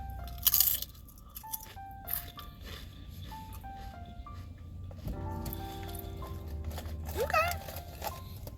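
Crunchy honey butter chips being chewed close to the mouth, loud crisp bites and crunches in bursts, with background music and electronic tones running throughout.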